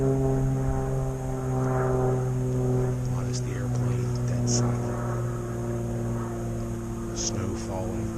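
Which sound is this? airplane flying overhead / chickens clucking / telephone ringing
airplane flying overhead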